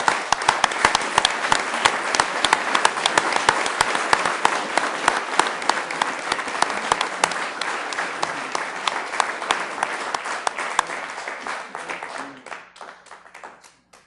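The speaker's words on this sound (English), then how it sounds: "I think we should give them a round of applause." A room full of people applauds families at a Sioux Falls city council meeting. The clapping is loud and dense and holds steady for about twelve seconds, then thins to a few scattered claps and fades out.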